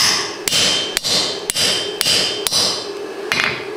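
A hammer strikes rebar being forged into a cleft weld on an anvil, seven sharp metallic blows about half a second apart, loud and close, with a ringing hiss between strikes.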